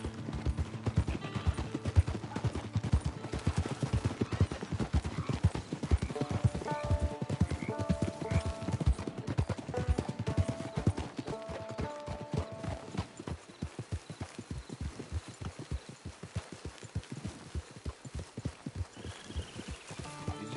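Horse hooves gallop in rapid, steady clip-clop from the Red Dead Online video game, loud and continuous over an ambient music score with tonal notes, with no talk over it.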